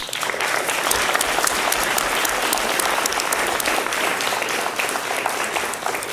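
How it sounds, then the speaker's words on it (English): Continuous applause from the audience at a board meeting fills the room at an even level from start to finish, a steady wash of many hands clapping. "let's give them a round of applause"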